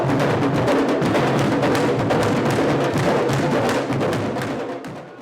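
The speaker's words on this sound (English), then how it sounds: "When all three are played correctly, they sound like this and produce Candombe." Three candombe drums play together in a dense, continuous ensemble of sharp hand-and-stick strokes over deeper bass hits. The steady rhythmic pattern stays fairly close and loud, then fades slightly toward the end.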